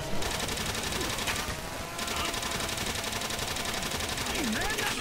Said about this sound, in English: Why the fuck is he shooting me?